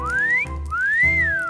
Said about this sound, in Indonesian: alat ini namanya alarm siul.